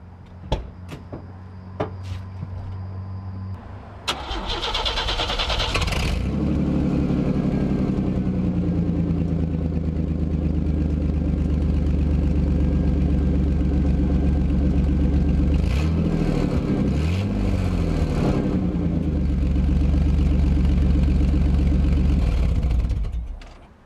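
A 1995 Chevy S-10 with a leaking exhaust cranks and then settles into a loud, rough, rumbling idle close by, with a few revs swelling midway before dropping back and cutting off at the end.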